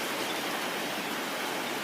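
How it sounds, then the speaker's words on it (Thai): Steady rain falls in Pathum Thani, a continuous dense hiss without pause, fairly loud and alone with no voices. "นี่นะครับคือวันที่25ตอนนี้ฝนยังตกอยู่นะครับ ที่ปทุมธานี นะครับ"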